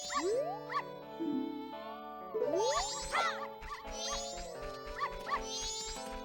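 Dogs in the Majora's Mask dog race bark and yip in quick bursts over bouncy game music and chiming jingles, cartoonish and moderately loud.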